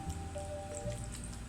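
Cooked potatoes are mashed into purée with added milk, giving soft wet squishing and dripping sounds in a quick uneven rhythm, close and fairly quiet, with no talking.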